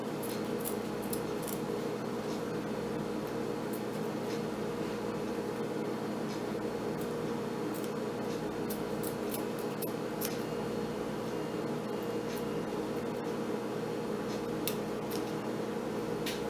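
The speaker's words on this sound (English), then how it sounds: "I'm just going to trim off that excess before I even start sewing" Scissors trimming excess fabric at a sleeve seam, a run of faint, light snips scattered over a steady background hum.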